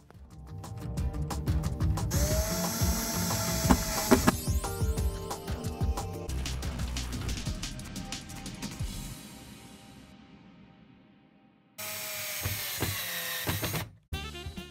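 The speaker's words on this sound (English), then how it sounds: "You put one on each and then you just screw them in." A power drill drives screws to fit wheels onto a wooden chest box, with whirring bursts and pauses between them, close and fairly loud.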